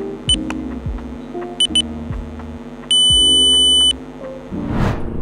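A Yi action camera sounds notification beeps after a script is installed, with short paired high beeps followed by one longer sustained tone, close and clear over a low electronic hum.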